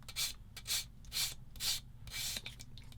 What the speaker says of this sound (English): So I'm going to come across with a sanding stick a few times.